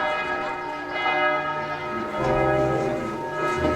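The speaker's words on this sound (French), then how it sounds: "Quand j'entends les cloches, c'est qu'il faut que je m'affole, c'est que ça va commencer." Church bells ring loudly and steadily in a harbour city neighbourhood, overlapping peals sustaining throughout with a fuller swell partway through, with no talking.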